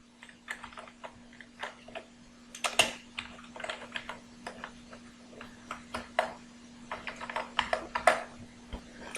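Someone types on a computer keyboard while entering stock items in Tally ERP 9 accounting software. Quick irregular key clicks come in bursts over a steady low electrical hum.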